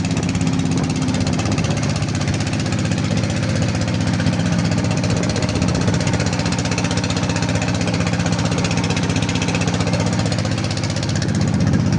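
A motor trawler's engine runs at sea off Guliakhali beach, a loud, continuous, rapid diesel knock and thrum throughout with no pauses, heard from on board with no talking.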